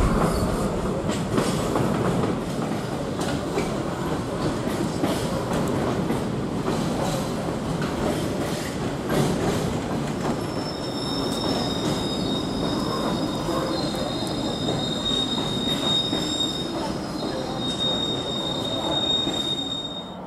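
A DB Cargo Class 66 diesel freight locomotive, 66764, heads into Ely Loop hauling a broken-down train, with loud continuous wheel squeal, rumbling wagons and rhythmic clickety-clack on the rails, shrill squeals rising in the second half.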